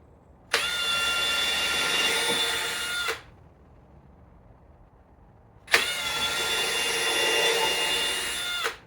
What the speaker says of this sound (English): we'll just get some pilot holes drilled in for those